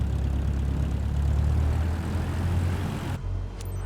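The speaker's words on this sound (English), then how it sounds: "gently increase throttle to get the aircraft moving." A propeller aircraft engine in Microsoft Flight Simulator 2024 drones loudly and steadily as the throttle is eased up for taxiing, a constant low rumble that abruptly drops in intensity near the end.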